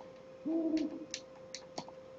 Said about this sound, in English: I hear owls.